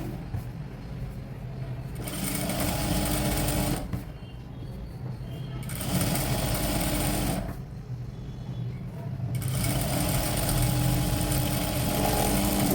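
A sewing machine stitches folded fabric in three loud, close runs of rapid whirring, separated by short pauses where the motor stops.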